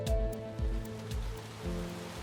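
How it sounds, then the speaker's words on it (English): Steady rain patters against a window pane, a continuous soft wash of drops with light rhythmic taps and a low rumble underneath, moderately close and without any voices. "the sound of rain pattering against his window"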